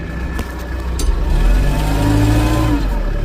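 A tractor in first gear revs hard while pulling out brush and small trees, its loud, close engine drone rising and straining steadily.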